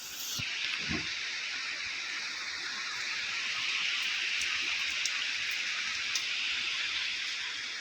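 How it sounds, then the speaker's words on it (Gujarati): Steady rain hisses evenly throughout, a broad wash of falling water with a few faint drips, continuous and moderately close, no voices. "અમારા ત્યાંનું વાતાવરણ જુઓ વરસાદ ચાલુ થઈ ગયો"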